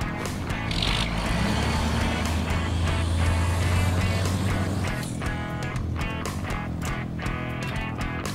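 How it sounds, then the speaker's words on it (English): A truck on a city street, its engine rumbling steadily and loudly close by, with other traffic noise around it. "truck."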